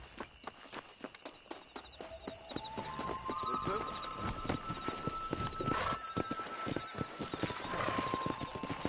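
Horses galloping in the Red Dead Redemption video game, with dense hoof clip-clop running steadily throughout and a brief whinny. Other game sounds and faint voices sit underneath.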